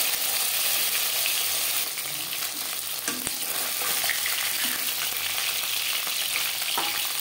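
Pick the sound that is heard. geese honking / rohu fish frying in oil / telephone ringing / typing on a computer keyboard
rohu fish frying in oil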